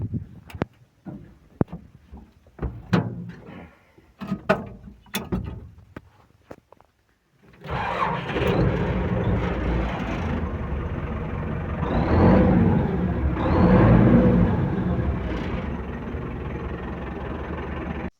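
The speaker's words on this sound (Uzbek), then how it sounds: "Traktor ishga tayyor." A 2013 MTZ 82.1 tractor, a few clunks and clicks before the diesel engine catches and settles into a loud, steady running rumble that swells slightly later on.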